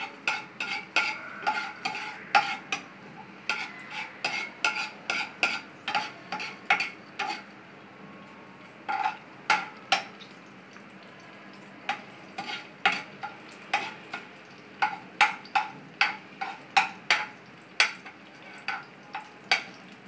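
Garlic sautéing in a pan for squid adobo: a steady sizzle beneath rapid, irregular clinks and scrapes of a utensil stirring against the pan, continuing close up for the whole stretch with no one speaking.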